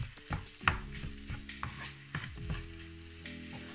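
Shredded coconut stir-fried in a pan for a sweet taro, coconut and mung bean rice cake, with a steady close sizzle and repeated scraping and tapping strokes of a utensil against the pan.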